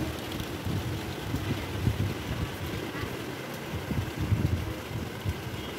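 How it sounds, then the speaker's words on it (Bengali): Rain falls outside a home at night during a power cut, making a steady broadband hiss with a low rumbling, gusty undertone that holds evenly throughout and has no voices over it. "বৃষ্টি পড়ছে।"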